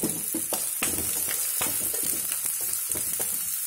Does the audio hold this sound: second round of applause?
no